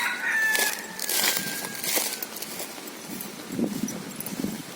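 Labuyo (wild junglefowl) cock crowing outdoors near a farm, several drawn-out calls at moderate distance amid rustling and ambient noise, no talk.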